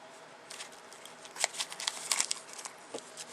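A plastic bag nested inside another plastic bag, bound with a couple of rubber bands, crinkles and rustles as it is handled, with scattered sharp crackles and soft rubs over about three seconds, close up and fairly quiet.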